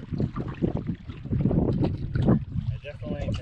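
Gusty wind buffets the microphone out on open water, with choppy splashing from kayak paddling and a voice talking over it.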